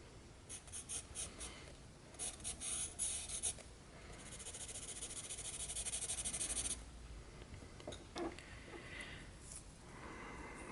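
Charcoal pencil, a 4B, scratching and rubbing across paper during a portrait sketch, with bursts of quick strokes and a longer steady stretch of shading, close and fairly quiet with no voice.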